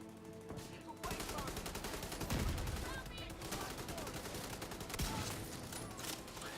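Bursts of automatic gunfire from The Division 2 shooter game crackle in quick repeated volleys, some distant and some closer, layered with game effects at moderate loudness.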